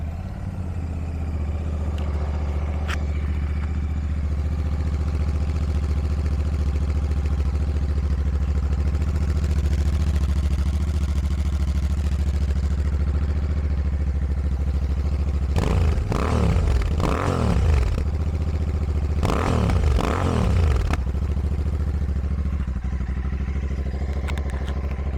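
A Royal Enfield Shotgun 650 fitted with a Rhino Racing exhaust rumbles at a steady, loud, close idle throughout, with two short bursts of throttle revving late on.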